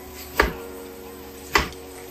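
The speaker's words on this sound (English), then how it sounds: "Let's chop our meat." Two sharp knife chops on meat for a Harlem bodega-style chopped cheese sandwich, spaced about a second apart, close and crisp against a quiet background.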